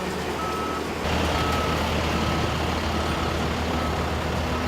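A dump truck on a construction site emits steady, evenly spaced reversing beeps over a continuous diesel engine rumble, moderately loud with no talk.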